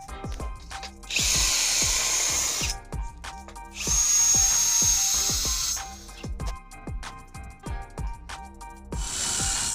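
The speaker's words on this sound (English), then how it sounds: "So this is where the real hard work starts in order to get these imprints drilled out properly. Yes, and it's really loud." Power drill boring holes in a metal sliding gate framework, two long loud whining bursts with a shorter one at the end, set among sharp metallic clanks and handling knocks.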